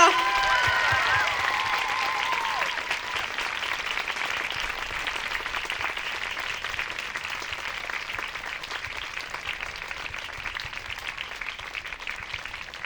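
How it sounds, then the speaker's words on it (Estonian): An audience claps at an adult and youth dance concert, beginning with a brief tonal tail of music, then settling into a long, even wash of moderately distant applause that holds steady to the end. "Suur aplaus neile, Tiiu ja Johanna!"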